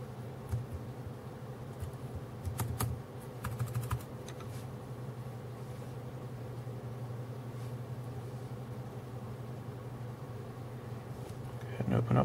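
Keys tapped on a faulty Dell Inspiron 11 3000 series laptop keyboard, a few quick clicks in the first seconds over a steady hum, then mostly quiet with a brief burst at the end; speech appears faintly.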